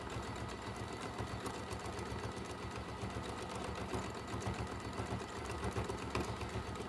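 A sewing machine stitching a fabric bag from a kit hums in a steady, fast mechanical run close by for the whole stretch, with no talk.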